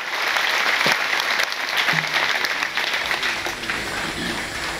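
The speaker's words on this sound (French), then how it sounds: "Je vous demande d'applaudir pour eux." A large crowd at a Catholic youth gathering in Ziguinchor applauds loudly and continuously, a thick, sustained roar of clapping with a few faint tonal sounds beneath it, no speech.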